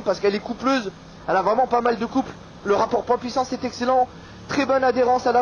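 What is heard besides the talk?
No everyday noises stand out.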